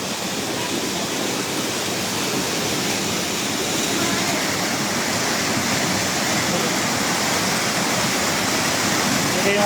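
Water pours over Sprite Falls in a loud, steady roar of rushing spray that fills the whole stretch without a break, close and continuous.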